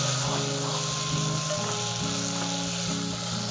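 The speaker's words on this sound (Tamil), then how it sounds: "முன்னாடி எண்ணெயில நல்லா வதக்கிட்டு" Green turkey berries sautéing in hot oil in a pan, a dense, continuous close sizzle with faint stirring scrapes.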